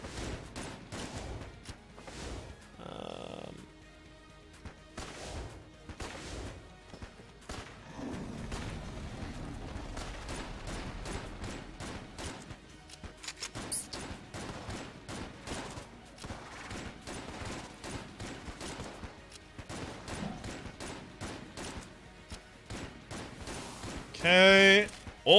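Rapid gunfire from the roguelike shooter Enter the Gungeon, rattling in dense bursts across most of the stretch with a louder blast near the end, mixed with game music and effects.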